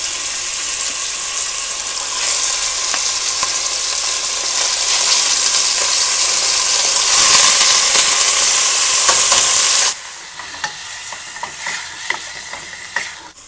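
Cubes of meat sizzle and fry in hot oil in a pot, a steady, loud crackling hiss that swells midway, then drops abruptly to quieter sputtering with occasional stirring clinks; no talking.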